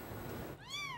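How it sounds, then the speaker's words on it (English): Tiny high-pitched meows from newborn kittens trapped under a house, several rising-and-falling cries close together in the second half, after a stretch of low background noise. "The little kitten's tiny meowing was finally heard by neighbors"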